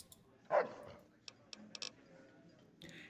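A dog barks once in the Fallout: New Vegas video game, a short sharp yelp followed by a few quiet clicks and a soft rustling hiss.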